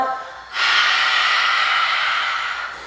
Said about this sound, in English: Nice expanded earth breath.